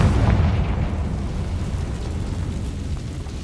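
A Confringo fire spell blast from the Hogwarts Legacy video game, heard as a loud, deep explosion that hits at once, then trails off into a low rumbling decay with no voices.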